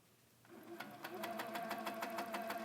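A Sweet 16 sewing machine starts stitching a quilt with the foot pedal pressed fully down. After a brief quiet moment it breaks into a fast, steady, close mechanical chatter of rapid stitches that keeps going.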